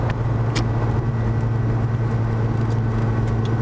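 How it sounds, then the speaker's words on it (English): Steady road traffic rumbles around a car from inside, a continuous low engine and tyre drone with a few faint higher swishes of vehicles passing, no talk. "Traffic's starting to pick up though."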